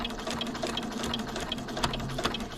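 A sewing machine with a walking foot stitching applique runs in a continuous fast mechanical whir with a steady hum and light ticking, close and moderately loud, with no talking.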